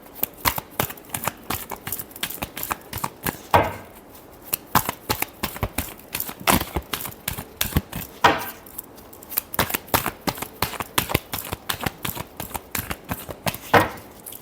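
Tarot cards are shuffled by hand in rapid riffling bursts, a dense run of crisp paper slaps and flutters close up, with a few brief pauses between rounds and no talking.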